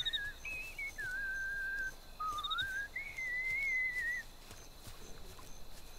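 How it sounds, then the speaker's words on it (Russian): A character in the video game Mafia: Definitive Edition whistles a wandering, tuneful melody for about four seconds. The whistle is clear and steady against a faint game-world ambience, then stops and leaves only the soft background. "А, ты еще свистишь."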